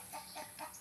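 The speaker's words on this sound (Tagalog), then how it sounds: "Napakaingay ng manok." A chicken on a rural Filipino farm gives several short clucks in an uneven rhythm, faint and a little distant, with no talk over them.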